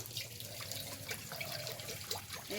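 Water runs steadily from a tap or jug into a cooking pot holding banana flower and potato, a continuous close splashing trickle with no talk.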